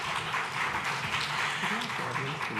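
Quiet applause from a conference audience, scattered clapping at a low steady level with faint room murmur underneath, brief and fairly distant.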